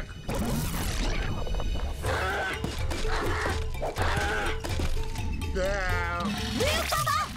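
A cartoon goat bleats in a Ben 10 episode, several wavering cries stacked with busy music and effects, fairly loud and continuous over several seconds.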